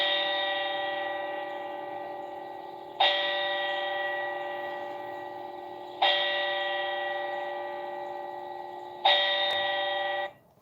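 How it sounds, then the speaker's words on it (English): Church bell rung four times as a tribute during a moment of silence, each loud, sustained toll with long ringing overtones decaying into the next, evenly spaced about three seconds apart and heard alone. "And they ring the bell 4 times."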